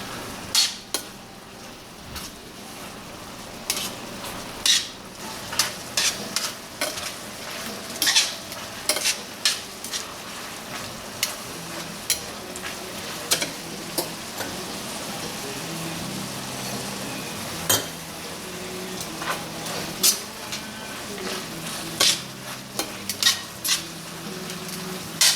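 Mushrooms sauté in balsamic vinaigrette in a pan, sizzling softly and steadily while a utensil scrapes and clicks against it in repeated sharp stirs, with no talking.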